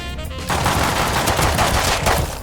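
Rapid automatic gunfire in Rust during a fight on a base's upper level, a sustained loud burst of close shots starting abruptly and continuing steadily.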